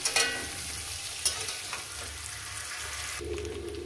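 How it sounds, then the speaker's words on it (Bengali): Jackfruit frying in goat fat, a steady close sizzle with occasional scrapes and knocks of a stirring utensil. "দেখুন কত সুন্দর করে এঁচোড়টাকে ভেজে নিয়েছি"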